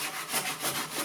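A piece of wood being scraped and planed smooth, a steady rasping, hissy drag in three or four rhythmic strokes, close and fairly loud, with no voices.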